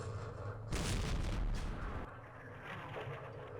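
Artillery fire in Campaign Series Vietnam, a single heavy booming blast that rolls for about a second before fading into quieter rumbling.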